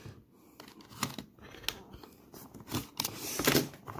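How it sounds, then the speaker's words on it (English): Tape being peeled and torn off a sealed mystery pack package, a series of close, irregular ripping and crinkling bursts that grow louder toward the end, with no voices. "I can't even get the tape off at this point."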